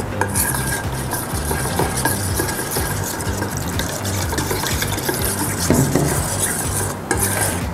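A spoon stirs flour batter for spicy crispy chicken as water is added bit by bit, a steady close scraping and sloshing with clinks against the bowl and no pauses.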